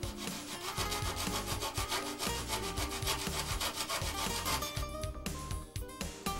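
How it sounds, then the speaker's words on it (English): A wooden I-beam wing part is block sanded by hand after cutting, giving close, rhythmic rasping strokes back and forth over the wood, busy and continuous throughout. "Block sand after cutting."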